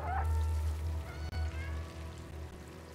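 A cat in the video game Stray gives a single short meow right at the start, then a low steady hum with faint trickling continues underneath.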